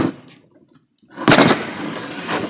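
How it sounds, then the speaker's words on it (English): The lid of a Kobalt tool box is closed while the box stands upright, a single solid close thump followed by a short rattling settle and faint handling noise, with no one speaking. "I'm going to stand this up and close the lid"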